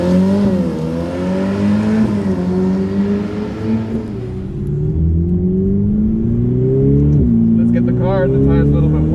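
A Ferrari F8 Tributo in manual mode pulls hard around the Fiorano test track, its engine note climbing through repeated revs with shifts between gears, loud and close from inside the car.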